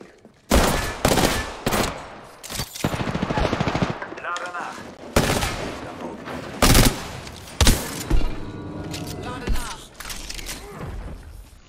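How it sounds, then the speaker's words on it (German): Repeated bursts of automatic gunfire in Apex Legends, loud close volleys separated by short pauses, with thuds and a voice speaking between shots. "Ich stehe unter Beschuss, Freunde."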